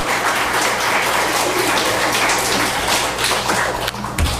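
A church congregation claps together in a steady, fairly loud round of applause for a young member standing up, with a low hum running beneath it.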